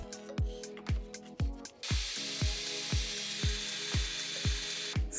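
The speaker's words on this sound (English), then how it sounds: "I'm soaking every potentially stubborn fastener with penetrating fluid" Penetrating fluid sprayed onto the suspension fasteners under a 27-year-old Opel Corsa, heard as a rhythmic series of sharp aerosol-can rattle clicks followed by a steady close hiss of spray.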